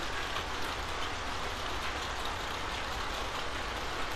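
Steady rain in The Walking Dead video game, a dense, even hiss of falling drops that holds constant throughout without any talk.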